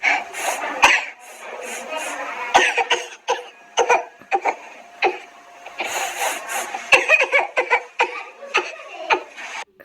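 A person coughs in loud, close bursts, some in quick clusters, with chuckling and throat sounds between the coughs.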